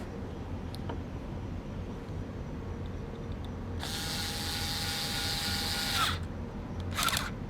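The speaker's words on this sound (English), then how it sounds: "I don't want to screw it too hard, and this drill actually adjusts for that" A power drill set to its weakest clutch setting drives a screw, a steady whirring burst of about two seconds followed by a brief second spin, close and clear with no talking.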